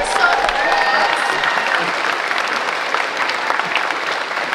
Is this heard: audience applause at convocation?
yes